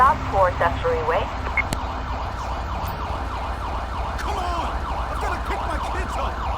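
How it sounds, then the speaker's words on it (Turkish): An ambulance siren in the video game GTA 5 wails in a repeating up-and-down pattern at moderate distance, sustained throughout, with a brief voice early on. "Evet ambulans geldi."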